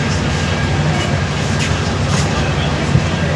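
A passenger train rolls steadily into Dima Hasao district, its rumble and rattle heard from inside the carriage with faint clacks and some voices under the noise.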